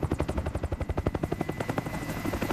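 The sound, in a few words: helicopter arriving in video game IGI 2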